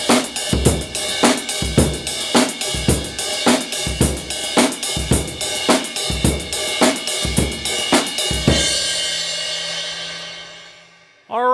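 Drum kit plays a fast drum-lesson exercise at full speed, with a steady run of punchy hits and cymbals ending in a long ringing crash, close and loud.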